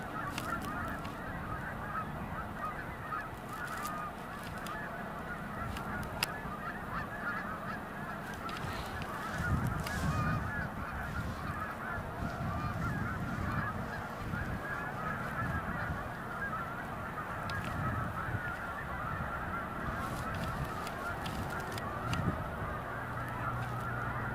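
A flock of Canada geese honks continuously for a long stretch, many overlapping calls at mid distance forming a dense, steady chorus, with no speech over it.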